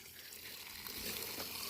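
Water flowing through a forest, a steady close rushing wash of running water that continues without a break, with no talk over it.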